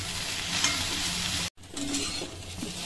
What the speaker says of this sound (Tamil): இதை ஃபர்ஸ்ட் நல்லா வத்தல் மாதிரி வறுத்து எடுத்துக்கோங்க.